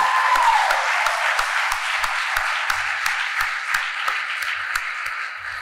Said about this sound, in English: I reckon they deserve another round of applause, don't you?